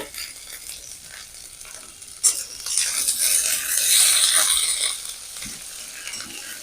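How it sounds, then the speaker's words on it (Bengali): Onions sizzle and crackle in a hot pan, the hiss swelling loudly for a few seconds after an abrupt start, then settling back down. "এবার পেঁয়াজ দিয়ে দেব পেঁয়াজটা একটু ভালো করে ভেজে নেব"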